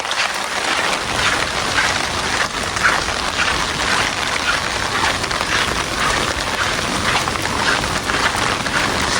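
Steady rain falls across a quiet village street in Yufuin, Japan, a dense, even hiss of drops on surfaces continuing without pause, with no talking.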